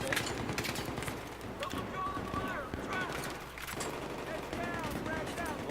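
Light machine gun fire in the video game Battlefield 3, with repeated short bursts of rapid shots that sound fairly faint and distant under people talking.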